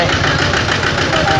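A motorbike engine runs steadily and loudly up close in heavy traffic on the way to a Radha Krishna temple during Janmashtami, with a constant rumbling drone under the ride.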